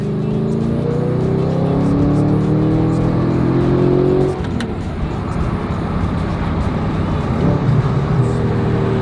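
A powerful V8 sports car engine revs up with a rising tone, then shifts to a rougher, throaty roar as it accelerates, loud and close.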